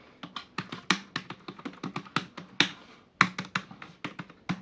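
Keys being typed on a Dell KB216 wired USB multimedia keyboard, a close, crisp series of uneven clicks and taps with short pauses, no speech.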